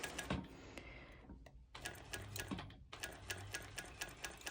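A sewing machine makes a few stitches on a color-block sporty top with a double-fold binder and invisible elastic, a steady rapid mechanical chatter with brief pauses between short runs, close up.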